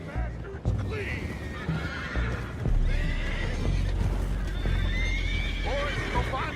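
A horse in the video game Red Dead Redemption 2 whinnies sharply several times over clip-clopping hooves and rough outdoor noise, with voices talking in the background.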